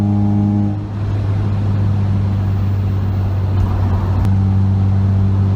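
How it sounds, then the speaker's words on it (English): From inside a supercharged Mitsubishi Eclipse GS with a 2.4L 4G69 engine, 3-inch exhaust and no cats, windows up, a loud, steady engine drone fills the cabin under hard acceleration, with brief dips as gears shift. "now we'll do a pull with the windows up"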